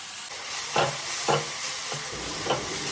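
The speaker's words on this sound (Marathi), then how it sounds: "तेल गरम झाले की त्यात बारीक चिरलेला कांदा परतून घेऊयात" Continuous hissing sizzle of finely chopped onion frying in hot oil, close up, with a few soft stirring scrapes at regular intervals.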